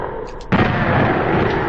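Shotgun blast from a shotgun guy enemy in Doom 2, one loud, close boom that cuts in abruptly and rolls on in a dense rumbling tail.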